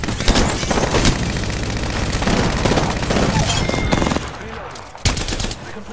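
Rapid bursts of gunfire fill an Apex Legends firefight, with dense, loud shots and booms repeating throughout, briefly pausing near the end before another burst.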